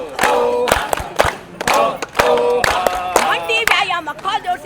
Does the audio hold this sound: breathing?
no